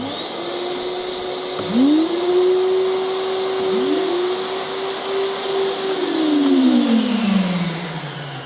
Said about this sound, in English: 3 1-kilowatt vacuum motors, which you can switch on individually